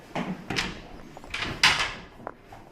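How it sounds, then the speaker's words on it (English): A hotel room door in Madrid is worked open with a key, giving a few quick clicks, a latch clack and a sliding rattle close by, with no talking. "you're supposed to put the key in the door"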